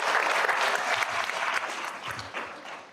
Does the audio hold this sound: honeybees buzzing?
no